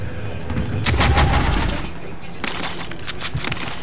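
Bursts of automatic machine gun fire rattle in Call of Duty: Modern Warfare, loud crackling volleys in two main stretches over a dense battlefield din.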